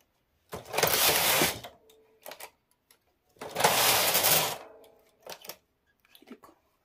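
A knitting machine works a sweater sleeve with two loud rasping carriage passes about three seconds apart, each lasting about a second, with small clicks and clatter between them, close and without talk.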